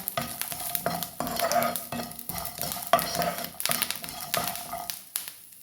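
Tamarind fries in a pan while being stirred with a utensil. Soft sizzling runs throughout under repeated close scraping and clinking strokes, in a fairly quick, irregular rhythm.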